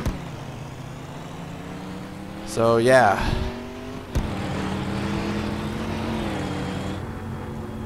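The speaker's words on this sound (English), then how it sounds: "we're gonna whip out our 77 car. And we're gonna take this for a spin at the road course." Roblox NASCAR 2021 stock car, number 77, on a road course: a steady engine drone with a brief revving surge and a sharp knock, a voice speaking briefly over it.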